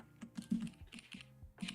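Quiet, quick keystrokes on a computer keyboard during a live coding session, an irregular patter of close clicks and taps with brief pauses, no voices.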